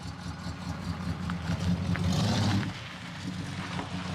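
A $200 abandoned junkyard muscle car engine idles with slightly off timing, a steady low rumble that swells briefly louder in the middle before settling back, with no talk over it.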